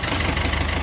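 Farm tractor engine idling close by, a steady low rumbling chug with a faint knocking pulse that holds evenly throughout, with no voices.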